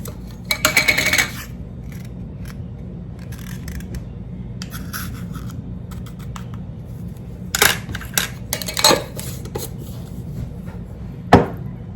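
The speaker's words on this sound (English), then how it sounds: "we're just going to mix this together and set this aside" Dry ingredients for peach cobbler, including baking powder and salt, being mixed in a bowl: a burst of scraping and clinking near the start, then quieter intermittent rubbing and a few sharp taps later.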